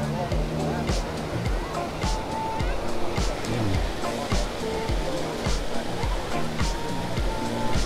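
Waves wash onto Vung Tau beach early on a weekend morning, a steady roar of surf with repeated low surges, close and continuous, with faint voices mixed into the background.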